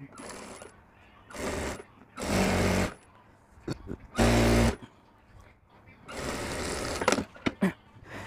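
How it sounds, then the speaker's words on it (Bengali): A sewing machine stitches a half-inch seam on a kurti collar in several loud, steady bursts of whirring, separated by short pauses with some talk between them. "ওর উপরে আমি এটা ধরে এখন সেলাই দেব।"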